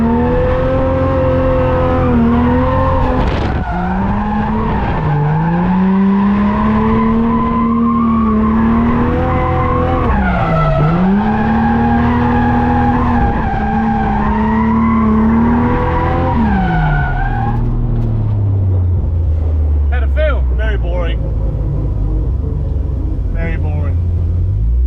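Car drifting on a wet, patchy track, engine revving loudly with rising and falling pitch and tires squealing, then the engine settles lower near the end, with a voice talking over it.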